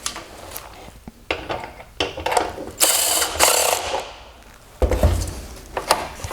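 An E6 external Torx driver clicks and ratchets in uneven bursts while turning a bolt on a 2017-2019 Mercedes-Benz E350/E400 multi-beam LED headlight, with short metallic rattles and pauses between the strokes.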